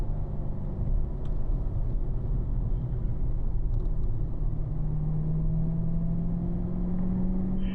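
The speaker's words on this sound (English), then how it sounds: "Let's hear and feel the sound of the curbing underneath our car." Steady, loud low rumble of a Corvette circling a track at a relaxed pace, the tyres rolling over curbing beneath the car amid continuous engine and road noise, with a faint rising engine tone late on.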